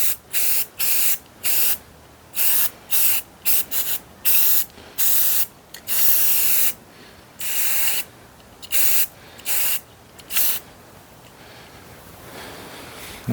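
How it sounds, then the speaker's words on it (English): A spray can paints the back of a metal house number sign in a series of loud, close hissing bursts, each lasting roughly a second, with short gaps between them. "I paint the back side because I don't want rust running down the wall."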